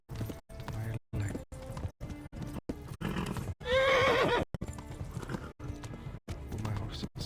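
A horse in the medieval open-world game Kingdom Come: Deliverance whinnies loudly and shrilly for about a second, set among steady clip-clop hoofbeats that run through the whole stretch, broken by short silent gaps.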